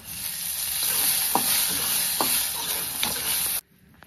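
Pigeon pea seeds roasting in a little oil in a kadhai pan give a loud, continuous sizzle with a few scraping stirs of a spatula, then the sound cuts off abruptly near the end.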